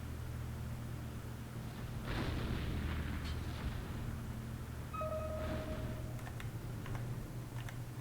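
Artillery fire in a competitive WW2 real-time strategy game, heard as distant muffled booms over a steady low rumble of battle ambience, with faint clicks of keys and mouse.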